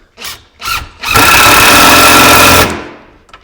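A power drill drives screws through the top rail of a cabinet into a build-up cleat: two short trigger bursts, then a loud, close, sustained whirring drive of about a second and a half that winds down, with no talk.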